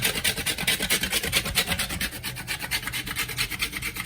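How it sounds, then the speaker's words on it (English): Jaggery (palm sugar) rasped against a grater for Thai fish cakes, a steady run of quick, gritty scraping strokes at close range with no talk. "This is jaggery or palm sugar, and we're going to grate it inside."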